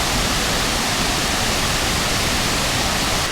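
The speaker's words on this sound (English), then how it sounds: "just behind me is Mexico's highest waterfall" Valle de Bravo waterfall, Mexico's highest, roaring as a loud, continuous broadband rush of falling water with no break and no voices.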